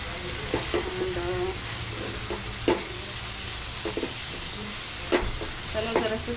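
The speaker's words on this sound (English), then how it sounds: "त्याला जरासं तेलामध्ये भाजून घ्या कांद्यांना" Onions shallow-frying in a little oil, a steady close sizzle with occasional sharp clinks and stirring scrapes from a utensil against the pan, loud and continuous throughout.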